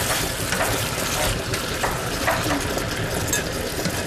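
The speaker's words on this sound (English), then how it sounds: "you just keep stirring so all of your citrus and your garlic and your butter mixture coats all the shrimp" Shrimp frying in a pan with citrus, garlic and butter while being stirred, giving a steady loud sizzle with faint scraping stirs throughout.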